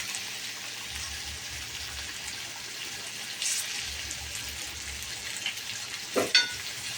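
Dried fish (suka kolmbi) frying with garlic in a pan makes a steady, soft sizzle throughout, with a few louder spatters and stirring clinks near the end and no talking.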